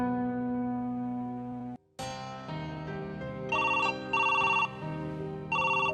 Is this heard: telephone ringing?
yes